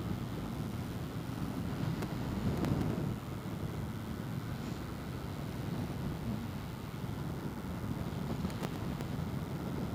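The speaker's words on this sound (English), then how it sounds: "A little windy." Steady wind buffets the microphone in a low, continuous rumble, fairly faint, with occasional gusts and no talking, while riding a Triumph Scrambler 1200 motorcycle in cold weather.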